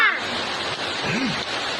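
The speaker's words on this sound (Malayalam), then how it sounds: "നല്ല മഴയൊക്കെ പുറത്ത് പെയ്യുന്നുണ്ട്" Heavy rain pours down outside in a steady, dense hiss that stays loud and unbroken, with no voices over it.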